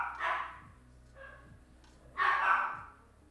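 Pet dogs bark indoors, two fairly soft, muffled woofs about two seconds apart with a fainter yip between them, heard over a low room hum.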